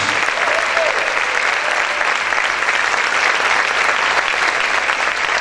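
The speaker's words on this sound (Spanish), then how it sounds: "¿Cuántos pueden aplaudir fuerte al Señor Jesús?" Loud, sustained applause fills a church as the congregation claps for the Lord Jesus, an even continuous roar of hands with no break.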